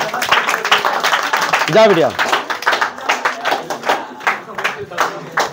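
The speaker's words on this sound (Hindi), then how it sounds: "ताली बजाओ लड़की के लिए, ताली बजाओ" A group claps for a girl at a school prize distribution, a loose run of hand claps with a brief spoken phrase partway through.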